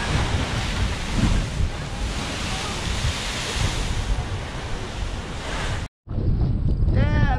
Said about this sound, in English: It all just splashes up and freezes.